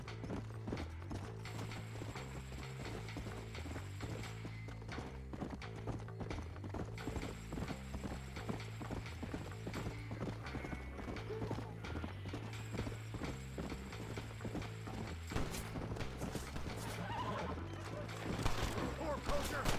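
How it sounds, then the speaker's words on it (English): In the Red Dead Redemption video game, horse hooves clip-clop in a steady rhythmic trot that keeps going without a break, with game effects and faint distant shots mixed in near the end. "Dragged away by his horse."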